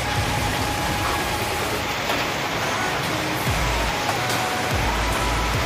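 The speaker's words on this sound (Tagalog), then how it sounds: "Ayan, lakas ng ulan no." Heavy rain pouring down at a pigeon loft, a loud, steady, unbroken roar of dense drops close by with no pauses.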